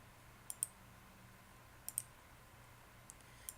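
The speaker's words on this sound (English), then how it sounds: "I'm just going to click off the picture" Faint, sharp computer mouse clicks come in close pairs and singles, spaced a second or so apart over a quiet hum, as a picture is deselected on screen.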